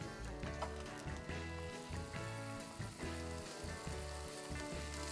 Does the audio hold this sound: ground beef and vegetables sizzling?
yes